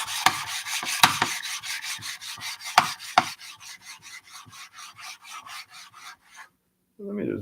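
A knife sharpening stone is flattened with steady back-and-forth rasping strokes, close and rhythmic, with a few sharper scrapes early on, ending in a brief pause and a soft knock.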